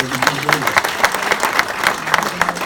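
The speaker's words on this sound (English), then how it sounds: "So let's give them a clap of hands." An audience at a business training event gives a short round of dense, rhythmic clapping that fills the room at close range, with a voice faintly heard beneath it.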